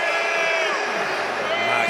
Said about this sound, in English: Listen at the boos